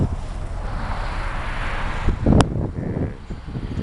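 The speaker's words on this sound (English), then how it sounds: "cold and dark and windy" Wind gusting across the microphone outdoors on a cold, dark day, a steady rough rushing roar with a louder buffet partway through and a few faint knocks.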